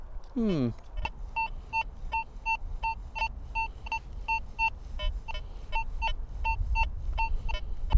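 An XP Deus 2 metal detector gives a steady run of short, evenly spaced electronic target beeps, a dozen or so clear tones over low outdoor rumble and ground noise.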